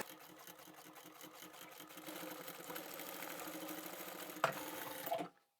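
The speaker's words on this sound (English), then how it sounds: "Back stitch again and sew to the end." A sewing machine stitches the seam of a zippered pouch, a fast rhythmic mechanical chatter that builds and runs steadily with a back stitch, then stops abruptly near the end.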